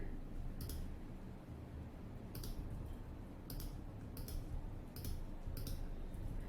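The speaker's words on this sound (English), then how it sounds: "Using my arrow keys to do some fine adjustment" Arrow keys on a computer keyboard are tapped in a string of about eight faint, sharp clicks, some close together and others spaced apart, against quiet background noise.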